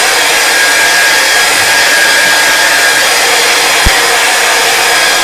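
A hair dryer blows steadily to dry wet paint on a landscape painting of mountains and clouds, a loud continuous whoosh with one brief click partway through and no talking.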